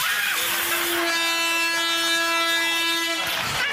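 A foghorn sound effect blasts on a TV panel show, one long loud sustained honk lasting a couple of seconds, preceded and followed by brief rushing noise.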